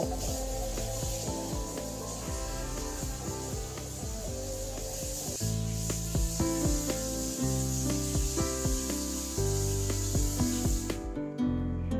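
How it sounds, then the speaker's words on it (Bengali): Fried garlic being mashed by hand with dried chillies for a Bengali fish bharta, giving a steady rubbing, squishing texture of close, continuous friction with repeated strokes. "রসুনগুলো দিয়ে আবারও আমি ডলে নিব।"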